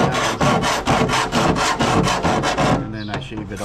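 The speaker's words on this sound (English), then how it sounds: "I'm sanding it down" Rhythmic, gritty rasping strokes of sanding down a metal lip for a hood louvre on a 2003 Jeep Wrangler TJ, about eight even back-and-forth passes, loud and close, with no voices.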